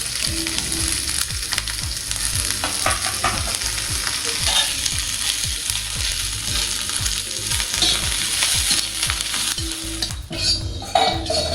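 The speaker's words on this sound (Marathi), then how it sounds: "जास्त काही लाल करायचं नाही, एकदम थोडा कच्चेपणा जाईपर्यंत भाजून घ्यायचं" Onion and spices fry in a little oil for mutter paneer, a steady close sizzle broken by repeated scraping stirs of a utensil against the pan, with no voices.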